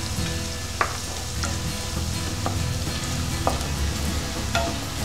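Homemade masala and turmeric fry on low heat in a pan for clam curry, with a steady close sizzle and occasional spoon taps while stirring. No one speaks.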